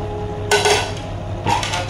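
A spoon scrapes and clanks twice against a cooking pot while potatoes are stirred into biryani curry, two short metallic bursts separated by quiet hum.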